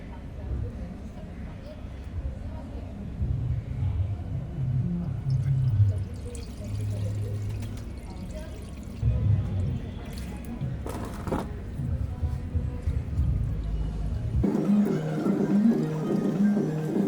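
Diesel fuel poured over a removed Mahindra Scorpio throttle body to wash off grime, giving intermittent splashing, squishing liquid sounds close up while someone talks throughout.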